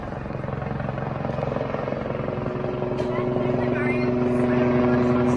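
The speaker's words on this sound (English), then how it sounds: "The pilot then began flying the helicopter in circles and eights just 400 feet above Glendale Homes." Helicopter flying low in circles and figure-eights about 400 feet above homes in Glendale, giving a steady, droning rotor roar that grows slightly louder over the clip.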